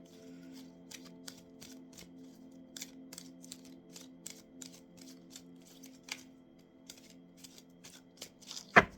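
A deck of new oracle cards being shuffled by hand in repeated quick riffling bursts over a low steady hum, close and fairly quiet, ending in a sharper snap.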